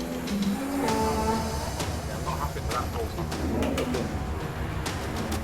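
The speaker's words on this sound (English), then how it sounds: "It became obvious that the bull was distressed." A distressed bull bellows on a farm, its low moaning calls rising over a busy outdoor background with birds cooing and people talking nearby.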